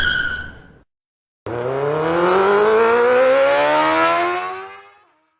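A Triumph Trident 660 motorcycle with a Zard full exhaust system on a dyno, revving up steadily from low to high in one long, loud pull that rises in pitch for about four seconds, then cuts off, after a brief earlier engine note.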